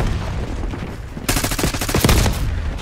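Sudden rapid automatic gunfire in Call of Duty Black Ops 6, a loud close burst of shots that breaks in after a quieter stretch and continues to the end.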